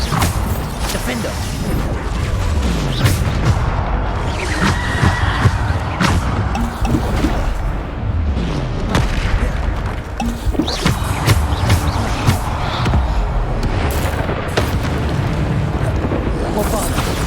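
Repeated Bombarda explosion spells in Hogwarts Legacy combat, booming blasts and rumbling impacts piling up in a dense, continuous barrage mixed with other spell and battle noise, loud throughout.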